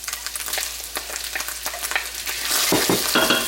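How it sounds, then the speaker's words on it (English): Ground beef with garlic and onions sizzles and crackles in a skillet as it is stirred, a steady close frying hiss that swells louder toward the end. "I will stir this and saute this for 30 seconds to 1 minute"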